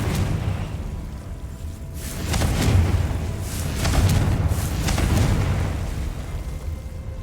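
Confringo fire spell explosions in Hogwarts Legacy, a series of heavy booming blasts with crackling bursts, rising and falling in loud waves over a rumbling background, with no voices.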